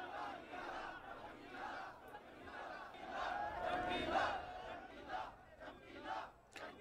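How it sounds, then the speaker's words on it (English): A rowdy crowd shouts and chants together, voices rising and falling in loud overlapping waves, with no break across the whole stretch. "That's one rowdy crowd."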